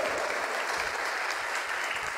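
Sustained applause from a church congregation marking the graduation of leadership school classes, an even, full roar of clapping held throughout without talk.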